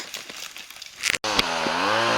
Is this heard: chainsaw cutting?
yes